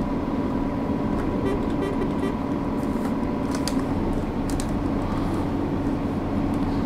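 A heavy truck engine in Euro Truck Simulator 2 drones steadily throughout, a constant low rumble with faint road noise and no distinct shift clunk standing out.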